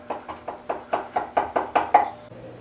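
Sharp chisel cuts into a wooden inside corner for a tool chest side: about ten crisp, evenly spaced knocks or taps in a steady rhythm, close and clear, ending in a quiet pause.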